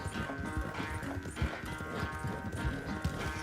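A horse galloping during a race in the Red Dead Redemption 2 video game, with steady rapid clip-clop hoofbeats and a brief whinny, loud and close over game music.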